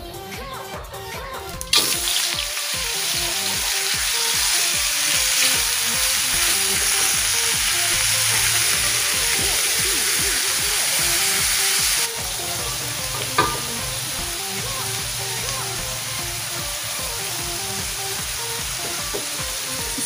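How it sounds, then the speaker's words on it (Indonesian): Mushrooms dropped into hot oil, raising a loud, dense sizzle right after a sharp onset, then a steady close frying hiss that eases slightly partway through, with no voices. "panaskan minyak secukupnya kalau udah panas seperti ini bisa dimasukkan jamurnya ya"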